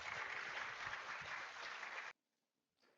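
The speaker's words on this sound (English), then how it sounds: "And another round of applause." Audience applause after a panel discussion at a health conference in Las Vegas, a dense burst of clapping lasting about two seconds that cuts off abruptly, followed by near silence and a faint trailing sound.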